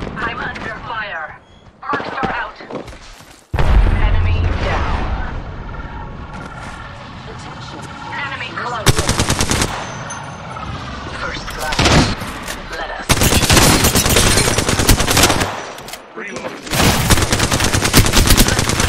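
Rapid bursts of gunfire in the video game Apex Legends, loud and repeated in clusters, with game voice lines and pauses between volleys.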